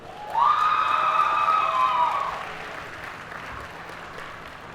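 An audience at a dual enrollment recognition ceremony applauds its P-TECH scholars. A broad wash of clapping swells at once and fades after a couple of seconds, while a sustained, pitch-sliding electronic tone runs over the start.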